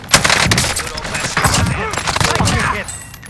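Rapid automatic gunfire in Call of Duty Rebirth, dense overlapping bursts crackling close and loud with a voice talking briefly over them.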